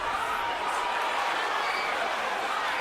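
A Brooklyn boxing arena crowd roars steadily during a rally in the Golovkin–Stevens fight, a dense, continuous wash of cheering with no breaks, heard from within the venue.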